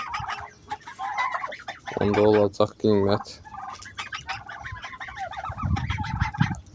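Geese and turkeys kept for sale call out, with a burst of loud, throaty gobbling and honking in the middle and softer clucking around it. A person speaks briefly nearby.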